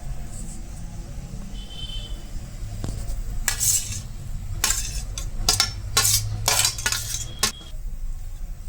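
A utensil scrapes and clinks against a metal bowl while three flours are stirred together with grated bottle gourd, in several bursts of close, brisk mixing over a low background hum.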